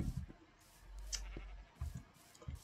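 Sheep in a Minecraft game bleat several times in short, quiet calls, spaced irregularly and heard alone without talk.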